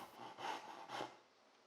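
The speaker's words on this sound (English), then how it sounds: "Then I'll head over to the workbench and trim off the excess with a pole saw." A pull saw trims excess wood at a workbench in two soft rasping strokes, close and fairly quiet, each a smooth swish followed by a brief fading tail.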